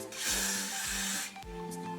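A short hissing spray of aerosol hair spray bursts out twice, close by, with a brief pause between the sprays.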